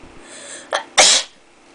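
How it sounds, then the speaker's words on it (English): A sneeze deliberately triggered by tickling the inside of the nose: a brief sharp intake of breath, then one loud, explosive sneeze, close up and alone. "When you stick it up, tickle your nose. So like, yeah, you'll sneeze."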